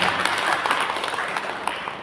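A crowd at a religious gathering in Haridwar applauds, a brief burst of dense clapping that stays fairly loud for two seconds.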